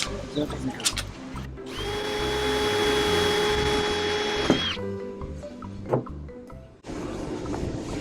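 A power drill drilling into fiberglass whirs steadily for about three seconds and then winds down, followed by scattered knocks and clunks.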